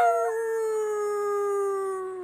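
A puppy howls during a family birthday celebration, one long steady wavering howl at close range that slowly drops in pitch, with no talk over it.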